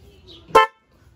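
A single short honk from a newly installed stock car horn sounds loudly and close, preceded by faint background noise and followed by quiet.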